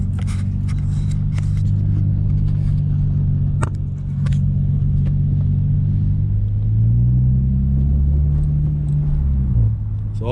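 An Infiniti G35 with transmission problems creeps along slowly, its engine a low, steady rumble from inside the cabin that shifts pitch as it labours, with scattered clicks and knocks on top.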